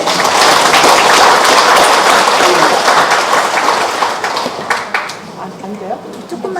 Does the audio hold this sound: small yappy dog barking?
no